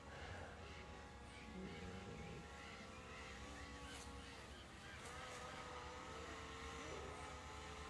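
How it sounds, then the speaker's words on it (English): Steady drone motor hum with shifting tones as the aircraft turns to head back, flying over a wooded elephant sanctuary property in Brazil, continuous and fairly loud with no talk. "I'm going to turn the drone around so I can bring it back home."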